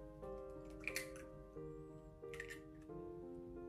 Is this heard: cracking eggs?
yes